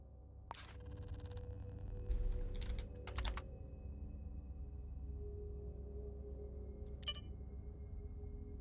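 Computer keys clack in quick clusters as letters are entered into a search box in the video game Shadows of Doubt, with short bursts of close typing over a steady low background hum.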